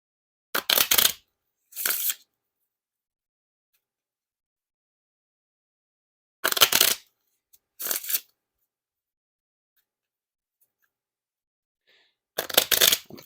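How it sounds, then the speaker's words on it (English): Hyper Neon playing cards are riffle shuffled in separate bursts, each a quick crisp flutter followed by a short bridging sound, with long quiet pauses between rounds. "And now time for the Riffle Shuffle or Bridge Shuffle"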